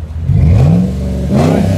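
A 2013 Dodge Ram truck engine revs twice in quick succession, the exhaust note climbing and falling, loud and close.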